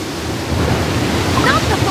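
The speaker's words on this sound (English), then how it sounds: "The waves! It's as if they've come alive!" Ocean waves surge in a steady, broad wash of noise with no break. A faint tonal wail rises near the end.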